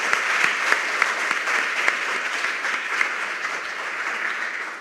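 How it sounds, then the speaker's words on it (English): Sustained audience applause at a junior high school quiz competition quarterfinal, a full, even roar of many clapping hands that holds steady and fades slightly near the end. "Can we give them a round of applause, please?"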